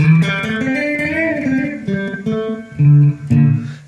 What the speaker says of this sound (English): You start to get a little bit of that slap back in there.